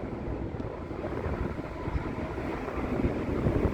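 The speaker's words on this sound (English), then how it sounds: "This wind blowing" Wind blowing across open water while casting for bluegills and crappie, a continuous low rushing buffet over the microphone that swells slightly toward the end, with no voices.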